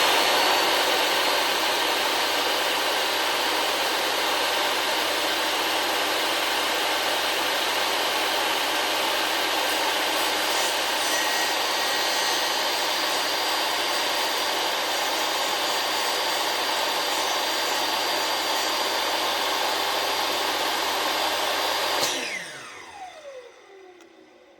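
A DeWalt power saw runs steadily through a cut in waterproof vinyl plank flooring, a loud continuous high-pitched whine for over twenty seconds that then winds down as the blade spins to a stop.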